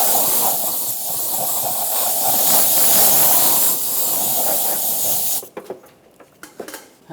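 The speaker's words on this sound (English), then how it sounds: "Just going to use a little compressed air." Compressed air blasts out in one loud, continuous close hiss for about five seconds while fuel injectors are replaced on a 1996-2002 Toyota 4Runner, then cuts off, leaving faint scattered clicks and handling noises.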